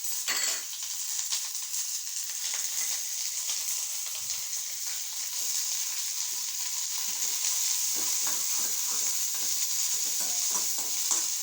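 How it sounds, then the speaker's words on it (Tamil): Onions and curry leaves frying in hot oil in a kadai on a low flame: a steady, bright sizzle throughout, with intermittent scraping and stirring clicks from a utensil, close up and with no talking. "கடாயில் எண்ணெய் காஞ்சிட்டு கருவேப்பிலையும் வெங்காயம் போட்டு அடுப்பை கொஞ்சம் சிம்மில் வச்சுக்கணும்"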